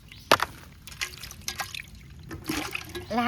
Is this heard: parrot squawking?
no